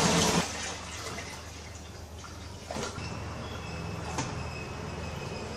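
Cold tap water pours steadily into a homebrew fermenter, topping it up toward the 25 litre mark; a continuous rushing splash with a louder burst at the start and small clunks midway.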